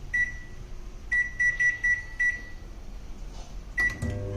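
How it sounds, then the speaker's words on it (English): Microwave oven cooking dal: a soft running hum broken by a series of sharp, evenly pitched beeps in short bursts, close by, followed by a clatter near the end. "I'm just microwaving it for 10 minutes."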